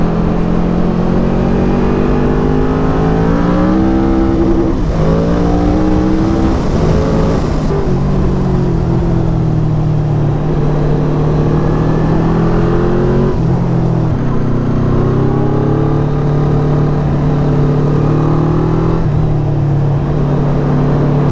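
Modified 200 hp Yamaha V-Max motorcycle riding through long sweeping bends, its engine droning loud and continuous with rising and falling pitch as it accelerates and eases off, wind noise throughout.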